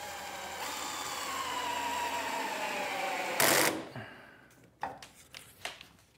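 A cordless drill drives pocket hole screws into wood in a van workshop, a loud whirring run that slows and stops, followed by a few sharp clicks and knocks of handling.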